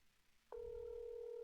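A telephone call to a Korean government office is dialed, then a steady ringback tone sounds, a single sustained electronic tone that begins abruptly and holds on, clear and alone.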